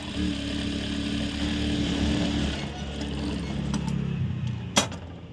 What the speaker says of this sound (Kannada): ಇಲ್ಲಿಗೆ ಒಂದು ಹೊಲಿಗೆ ಹಾಕ್ಕೊಡಿ